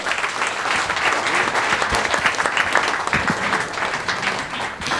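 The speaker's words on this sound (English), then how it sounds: "Another round of applause, please." Dense, sustained applause from a large audience at an investment partnership forum, steady and fairly loud throughout with no talking over it.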